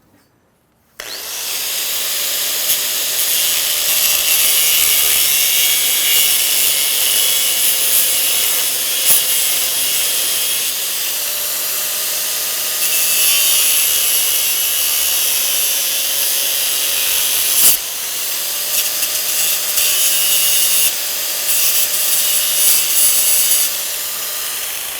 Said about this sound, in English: with the cutoff wheel, I've kind of clipped that top and it's made kind of a jagged edge